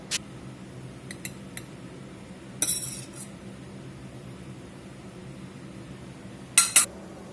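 Utensils cut into and scrape through a lamb and potato shepherd's pie in its dish, with a few light metallic clinks and two brief sharper scraping bursts against otherwise quiet kitchen background.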